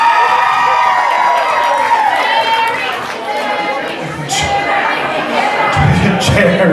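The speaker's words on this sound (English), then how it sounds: "Now, the applause is great" An audience at a burlesque show at Gallery5 in Richmond cheers and applauds in a loud, continuous wash of whoops, shouts and clapping, with crowd chatter throughout.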